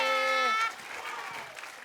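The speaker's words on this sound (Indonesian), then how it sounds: "tepuk tangan untuk Mati Tata Rajali" Applause from a comedy show audience rises right after a harmonic voice cuts off, settling into a steady, moderate patter of clapping that carries on to the end.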